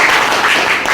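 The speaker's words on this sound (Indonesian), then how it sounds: "kita berikan tepuk tangan untuk kelompok" A classroom group claps for a presenting student group in a Christian religion lesson, a dense, steady patter of many hands lasting about a second, close and fairly loud.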